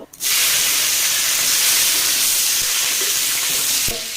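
Green chilies drop into hot oil already spiced with panch phoron, erupting at once into a loud, continuous frying hiss that holds steady for several seconds.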